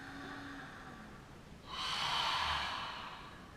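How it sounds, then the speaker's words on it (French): During a Hatha Vinyasa yoga flow, a slow throat breath moves in and out, a quiet airy inhale followed by a stronger, hissing exhale that swells and fades, with no talking. "inspirer et expirer par la gorge, un petit peu comme si on venait tout d'abord embuer notre miroir"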